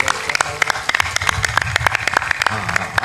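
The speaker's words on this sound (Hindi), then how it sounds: "ताली भी जोर से बजाया करो।" An audience at a religious discourse claps in a sustained round of applause, dense and fairly loud, with a voice heard alongside.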